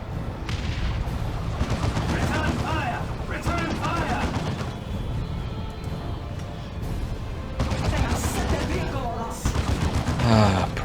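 Rapid gunfire and bursts of shooting in a Dawn of War 2 Retribution Warhammer 40k battle, with a Prism firing on Crusaders, run continuously with booms and crackling under steady busy game noise.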